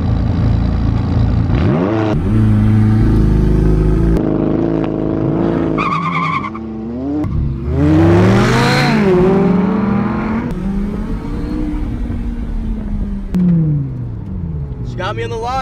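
A Dodge Viper ACR and a McLaren 570s launch side by side in a drag race, with engines revving hard, rising gear-change sweeps and tire squeal from wheel spin, all under near continuous talk.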